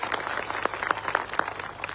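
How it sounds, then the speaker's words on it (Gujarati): A crowd at a political rally claps for police officers, a steady dense patter of hands with scattered sharper claps standing out, moderately loud and without speech over it. "એવા તમામ પોલીસ અધિકારીઓ માટે એકવાર જોરદાર આપણે તાળીઓ પાડી લઈએ"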